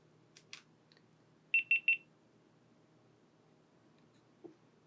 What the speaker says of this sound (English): my GoPro just beeped at me